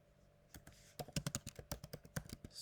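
Quiet, rapid typing on a computer keyboard while entering text in the IntelliJ IDE, a quick irregular run of close, crisp key clicks after a short lull.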